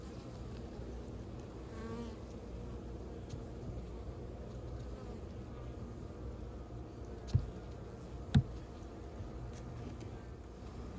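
Honeybees around hives buzz in a steady, low drone throughout, with a couple of brief sharper sounds near the end.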